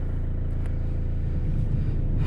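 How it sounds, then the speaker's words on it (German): A Mercedes-Benz Vito's engine idles just after starting, a steady close low rumble with a faint rhythmic pulse. "Auto jetzt gestartet"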